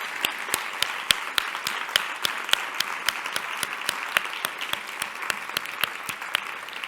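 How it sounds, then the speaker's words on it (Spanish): Audience at a 25th anniversary event for social projects applauding, with a sustained bed of clapping punctuated by sharp, regular individual claps close to the microphone. "os quería pedir un aplauso de todos para ella"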